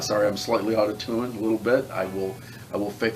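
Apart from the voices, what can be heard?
No everyday noise stands out behind the speech.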